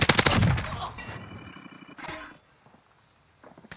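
A loud, dense burst of M60 machine gun fire in the Warzone video game opens, then fades to a few scattered, fainter reports and near silence.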